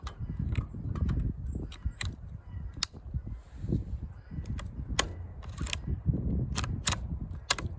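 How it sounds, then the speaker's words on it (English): .22LR rounds pressed one by one into a Rossi rifle magazine outdoors, making a string of crisp, irregular metallic clicks over gusting wind rumble, with no talking. "So let's load some ammo into our magazine."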